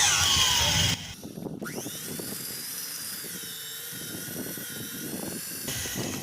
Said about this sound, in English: You have to use a drilling bit of 10 millimeters, the size of the bolt, to get the center.